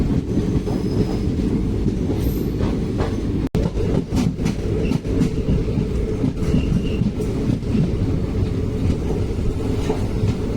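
Tirupati express passenger train (16780 Rameswaram–Tirupati Express) running at speed, heard from on board as a loud, steady rumble of wheels and carriages with rail clatter and occasional squeal throughout.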